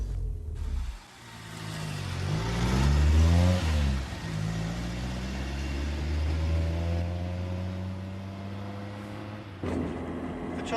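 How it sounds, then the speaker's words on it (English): A car driving up a country road accelerates through its gears, the engine rising and settling into a steady mid-pitched drone, close and continuous, ending in a brief change of sound near the end. "He drove him up the road past the pink house at Clapgate Lane."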